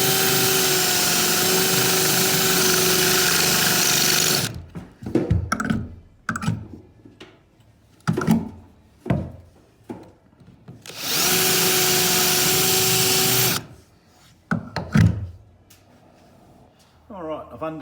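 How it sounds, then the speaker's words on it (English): A power drill bores out the seat rivets on a bus being converted, giving two long loud steady whines near the mic, with spoken voices and clanks in the quiet gap between them. "I've drilled out all the rivets all the way along now"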